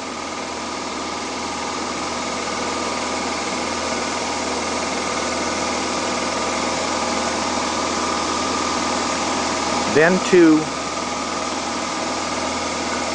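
A Honda EU7000iS inverter generator idles steadily in economy mode, a continuous close, even engine drone throughout, with a brief voice heard near the end.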